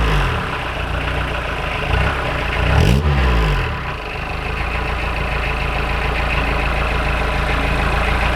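A Volkswagen Caddy van's non-turbo 1.6 litre diesel engine idles steadily, then revs up briefly around the middle with a rising roar before settling back to a rough, even idle.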